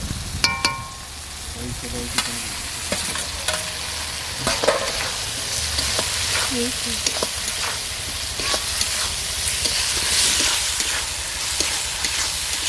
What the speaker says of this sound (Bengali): ভালো করে মশলাটা কষে নেব। এই সিদ্ধ করা আলু দেব